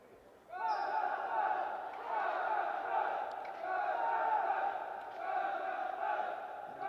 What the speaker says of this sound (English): You can hear the chanting from the home crowd.